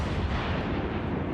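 Continuous dense rumble of heavy warship gunfire in World of Warships during naval combat, loud and sustained with no clear gaps between the booming blasts.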